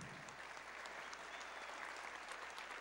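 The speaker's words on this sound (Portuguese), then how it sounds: "Pode aplaudir, sim." A congregation at a regional church congress breaks into sustained applause, with continuous dense clapping heard faint and distant throughout.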